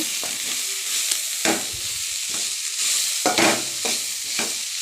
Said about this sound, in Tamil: மிளகாத்தூள் சேர்த்து பச்சை வாசனை போகிற வரைக்கும் கொஞ்சம் நேரம் அடுப்பில் இருக்கட்டும்